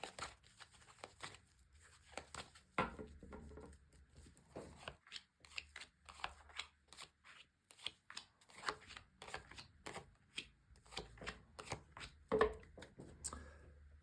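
Tarot cards are shuffled and dealt out onto a table for a reading, giving soft, close riffling and a string of quick slaps and taps as each card lands, fairly quiet overall.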